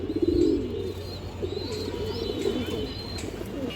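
Soft, repeated pigeon coos close by, low and throaty, with a few faint chirps and a thin whistle-like tone in the background.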